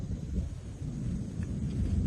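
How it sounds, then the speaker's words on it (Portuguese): Thunderstorm rolling in over the Uruguay River in western Santa Catarina, Brazil: a steady, deep rumble of thunder and wind-driven rain fills the scene at moderate loudness, continuous throughout with no voices. "E vem a tempestade no Rio Uruguai."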